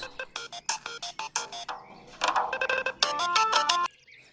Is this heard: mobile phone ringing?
yes